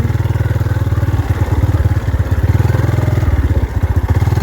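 A motorcycle engine runs close by with a rapid pulsing exhaust beat that swells and dips as the throttle is blipped. The sound is loud and continuous, with no speech.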